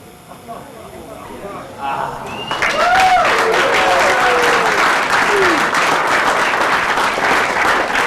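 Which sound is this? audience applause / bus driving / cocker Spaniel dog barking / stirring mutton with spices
audience applause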